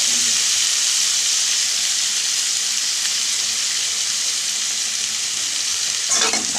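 A medium-sized tomato with salt sizzles and fries steadily in a hot pan, a constant bright hiss with a brief stir or clatter near the end.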